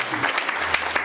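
A church congregation applauds, a brief burst of dense, close clapping.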